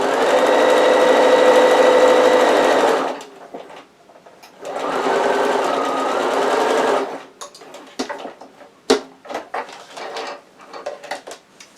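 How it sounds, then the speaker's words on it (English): A sewing machine with a regular presser foot top-stitches a zip pouch, running in two steady loud bursts of a few seconds each, followed by short clicks and handling noises. "So there's my top stitching done."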